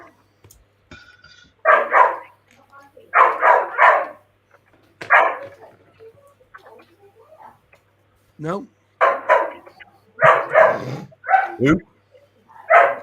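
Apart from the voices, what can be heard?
dog barking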